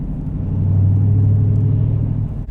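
A 2019 Dodge Challenger R/T Shaker with a six-speed manual gearbox, heard from inside while driving: a loud, deep, steady engine rumble that swells briefly and then eases off near the end.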